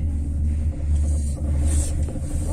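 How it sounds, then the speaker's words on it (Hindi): A gondola cable car climbs at Gulmarg with a steady, deep mechanical rumble and a low hum throughout, heard from inside the cabin. "this is the gondola ride"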